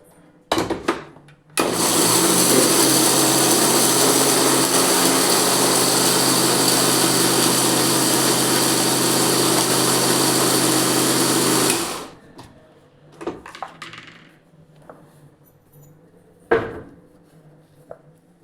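A mixer grinder running at full speed on cashews and dry fruits for a kids' laddu: a loud, steady high whir lasting about ten seconds, then stopping, followed by a few knocks and handling sounds.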